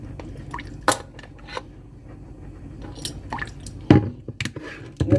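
Worcestershire sauce added to melted butter and brown sugar for ham and beef sliders, soft liquid drips and squishy splashes with a few light clinks of a spoon against the dish, close and moderately quiet.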